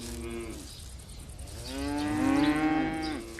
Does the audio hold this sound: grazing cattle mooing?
yes